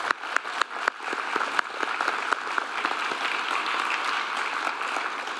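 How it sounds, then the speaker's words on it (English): A forum audience gives a round of applause, starting with a few sharp, separate claps close by that quickly swell into steady, dense clapping from a crowd. "Can we give them all a round of applause?"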